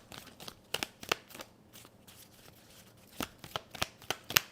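Tarot cards shuffled by hand in a series of crisp riffling flicks and slaps, clustered in short bursts with quiet gaps between, close and fairly faint with no talk.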